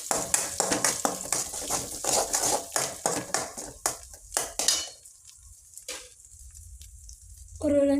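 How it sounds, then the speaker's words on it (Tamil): Fish roe frying in a pan with pepper, a dense crackling sizzle broken by quick rhythmic stirring and scraping strokes for several seconds, then settling to a faint, quiet fry before a brief clatter at the end. "அந்த முட்டையை நல்லா வறுத்தெடுத்துக்கலாம்."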